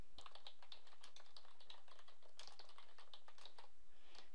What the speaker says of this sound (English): then I'm going to type in what I want it to say